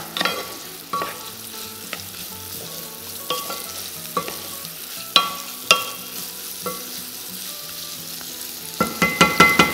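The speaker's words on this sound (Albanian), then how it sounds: "shtojmë të përrenjet, e lojmë të fërgohen" Mushrooms fry in a pan for a mushroom soup, giving a steady close sizzle with repeated sharp clacks of a utensil stirring against the pan, which grow quicker toward the end.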